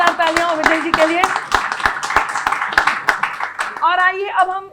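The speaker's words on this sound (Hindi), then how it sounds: "जोरदार तालियां हो विजय जी के लिए" An audience at a Hindi poetry and politics stage event applauding a guest, sharp scattered claps running under a loud voice speaking over them.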